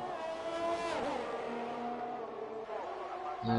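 Race car engine in the One Hub Racing Melbourne round, a sim race at the Australian circuit, droning loud and steady with rising and falling harmonics as it crosses the finish line, swelling again at the end.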